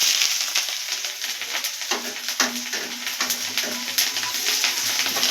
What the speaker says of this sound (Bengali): এবার আমি ওই তেলে আদাটা ভেজে নেব।